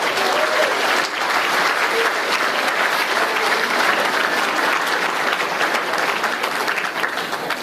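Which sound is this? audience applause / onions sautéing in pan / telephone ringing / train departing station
audience applause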